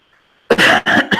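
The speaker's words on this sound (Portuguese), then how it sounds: "Ai, tô com uma tosse." A teacher coughs during a calculus lecture on limits and continuity: three loud, close, harsh coughs in quick succession after a brief quiet pause, with no talk.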